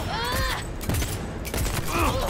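Gunfire in the video game Cyberpunk 2077, several loud sharp blasts in quick succession mixed with ringing ricochet-like whines and mechanical clatter, close and dominant, with a voice briefly under it.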